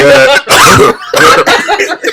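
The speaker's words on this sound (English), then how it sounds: "The emphysema cough." A loud, rough, phlegmy cough bursts out in a few harsh hacks close to the microphone, broken by short pauses, in a podcast setting with voices nearby.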